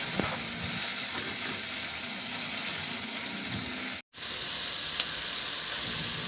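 Onions and tomatoes sizzle and fry steadily in a pan for a chicken dish with chayote and carrot, a continuous close hiss with faint stirring scrapes and a brief dropout near the end.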